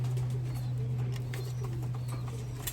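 A racing pigeon cooing at a loft, soft low coos under a steady mechanical hum with faint background bird sounds nearby.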